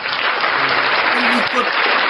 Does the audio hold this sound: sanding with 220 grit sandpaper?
no